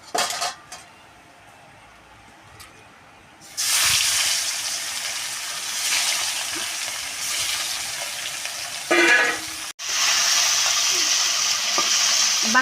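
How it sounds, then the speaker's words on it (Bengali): Remaining bam fish (eel) pieces go into hot oil: a quiet stretch with a few utensil clinks, then a loud continuous sizzle begins, broken once by a short clatter and resuming strongly. "বাকিগুলো আবার ভেজে নেব।"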